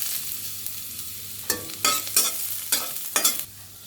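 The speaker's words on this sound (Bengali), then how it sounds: "এবার আবার একটু ঘি দিয়ে দিই। দিয়ে দিচ্ছি রসুন কুচি।" Chopped garlic fries in ghee: a low, steady sizzle, then four or five quick bursts of stirring and crackling near the end, close by with no voices.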